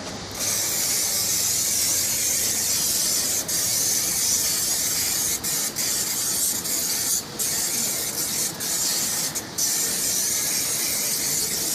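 Tire shine product sprayed onto a car tire gives a steady, close hiss that runs almost without a break, with a few brief dips where the spray stops for a moment.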